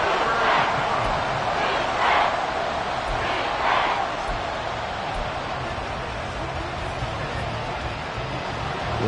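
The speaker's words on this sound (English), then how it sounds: "This crowd turning up the decibel level." Loud, roaring crowd at an American football stadium during a late fourth-quarter Bears game, a dense sustained wall of noise with swelling cheers and a commentator's voice faintly underneath.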